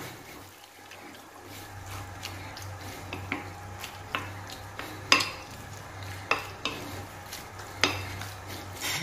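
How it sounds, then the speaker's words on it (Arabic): Ingredients for a crustless chicken and cheese quiche are stirred and mixed in a bowl, with a utensil clinking against the side in a steady series of sharp taps over a low continuous hum. "نخلط المكونات"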